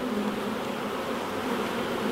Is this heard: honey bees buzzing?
yes